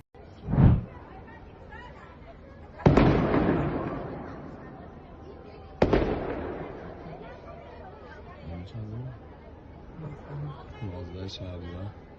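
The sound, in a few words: explosion in western Iran, news footage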